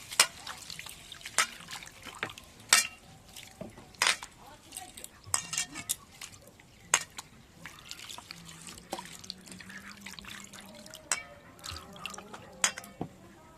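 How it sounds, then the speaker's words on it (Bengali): Rice and mung dal being washed by hand in a bowl of water, with repeated splashes, drips and trickles and occasional clinks against the bowl, close and fairly quiet with no talking. "এবার আমি খুব ভালো করে চাল আর মুগের ডালটাকে ধুয়ে নেব।"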